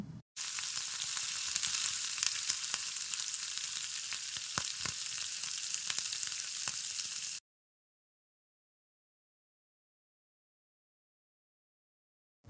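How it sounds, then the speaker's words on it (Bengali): Chopped onion fries with smoky chicken in a pan for chow mein, giving a constant loud sizzle with a few stirring clicks. The sound cuts off abruptly partway through, leaving silence. "ঢাকনা উঠিয়ে নেড়ে এতে বড় সাইজের একটি পেঁয়াজ কুচি দিয়ে 1 মিনিটের মতো ভেজে নেব"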